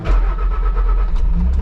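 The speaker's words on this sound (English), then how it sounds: "I'm gonna take the skid loader to my shop and move some snow at my shop" Skid loader engine running on a snowy winter day, a loud, steady low rumble throughout with a slight rise in revs near the end.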